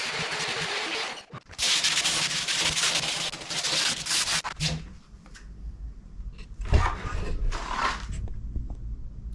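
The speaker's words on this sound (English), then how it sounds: "I followed that with hand sanding using 120 grit" Close, rhythmic scratchy rubbing of 120-grit sandpaper by hand across a surfboard repair in long bursts, pausing briefly, then a few shorter strokes and a knock.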